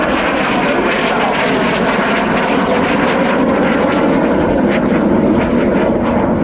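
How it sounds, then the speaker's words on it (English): A Mark 3 jet trainer powered by a Rolls-Royce Viper turbojet at an RAF airshow, its engine a loud, continuous broadband roar and whine that fills the whole stretch without a break. "The Rolls-Royce Viper turbojet provides the power plant, one of the most successful British jet engine designs of all time"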